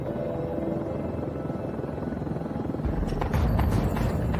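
A police helicopter drones overhead as a steady low rotor rumble that grows louder and rougher near the end, with no voices.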